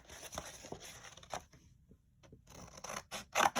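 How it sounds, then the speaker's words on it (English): Several short snipping and rasping cuts, close by, in uneven bursts with brief quiet gaps between them. "So we're going to use our scissors to cut."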